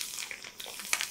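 Wheat kurdai fry in hot oil with a soft, steady sizzle and hiss, brief crackles and bubbling bursts rising over the continuous frying noise, heard close up.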